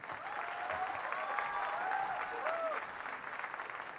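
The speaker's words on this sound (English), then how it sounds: "Can we get a big round of applause for everyone?" An audience applauds a literary panel at an evening event with a sustained crowd round of clapping, fairly loud and even, with faint cheering or whistles mixed in.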